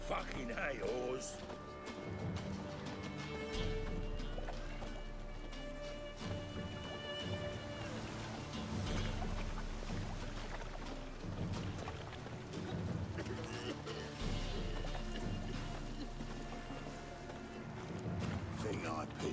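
Horse galloping in The Witcher 3 game world, steady repeated hoofbeats thudding under ambient game sound and music, with a voice talking over it.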